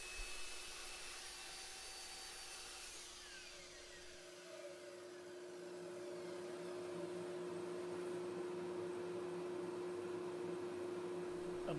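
A power saw trims square wood pieces for planter box bases, a steady mechanical whine that rises slightly and holds on as the cut continues, with no talking.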